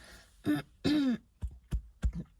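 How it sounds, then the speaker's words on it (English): A person clears their throat nearby: two longer rasping grunts followed by a few short, quick throat-clearing coughs in a quiet room. "I need to clear my throat"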